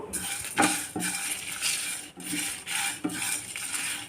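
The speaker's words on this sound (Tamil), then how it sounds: "ரெண்டு மூணு வெந்தயம் அவ்வளோதான் இதை வந்து நம்ம வறுத்துக்குவோம்" Fenugreek seeds being dry-roasted in a pan for Mangalore fish curry, with a utensil scraping and stirring against the metal in repeated bursts and light clinks, fairly close and alone without talk.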